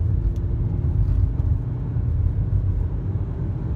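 Citroën Grand C4 Picasso with a 1.6 turbo diesel accelerating hard uphill, a steady loud low engine drone and road rumble running continuously without a break, heard from inside the car.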